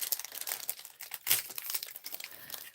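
Crinkling plastic wrapper of a Magic: The Gathering booster pack torn open up close, a quick run of sharp crackles and rustles with one louder crunch near the middle, no talking.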